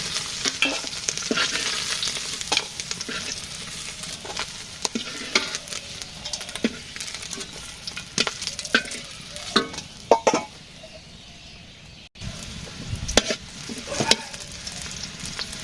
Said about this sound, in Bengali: পেঁয়াজ ভাজি হয়েছে, এখন সবজি দিয়ে দিই।